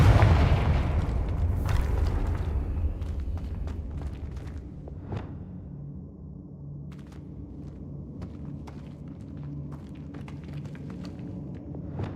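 A Confringo fire spell in Hogwarts Legacy detonates with a heavy booming blast that rumbles and decays over several seconds, followed by scattered crackles and small impacts against a low background.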